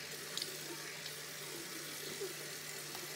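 Water runs from a tap into a sink as a quiet, steady splashing stream with a couple of small clinks, and no voices.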